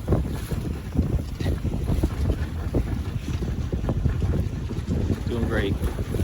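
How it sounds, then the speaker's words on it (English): Wind gusting over a sailboat under way in Trinity Bay, a steady rushing roar with buffeting on the microphone and the wash of water against the hull, with a voice faintly heard at times. "The wind is picking up here good now."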